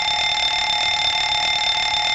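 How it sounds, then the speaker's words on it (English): Engine overheat test alarm in a PMDG 737-800 BBJ flight simulator cockpit: a loud, steady electronic alarm tone that holds continuously without a break, with no voices. "we're going to test the overheat now. You should hear an alarm."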